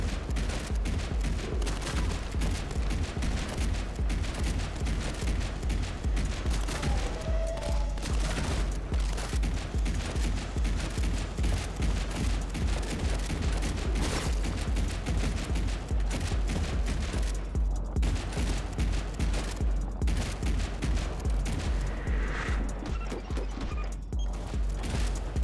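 Rapid, steady gunfire from a shotgun in the video game Shotgun Cop Man, blasts repeating densely throughout over a constant game soundtrack, with no voices.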